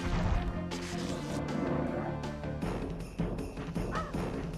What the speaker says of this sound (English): I just think they make a glass shatter noise because it sounds impactful.